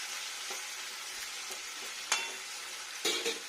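Spices and chopped tomato sautéing in a pan for new-potato aloo dum give a soft, steady sizzle, broken by a few sharp scrapes and clinks of a spoon against the pan.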